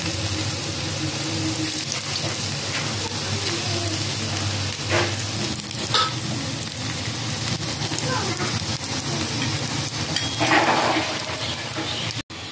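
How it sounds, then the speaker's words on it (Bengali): Jackfruit seed fritters fry in well-heated oil, giving a steady, fairly loud sizzle with continuous crackling throughout and a brief clatter near the end. "এবারে আমি একে একে বড়া ভাজার জন্য দিয়ে দেবো।"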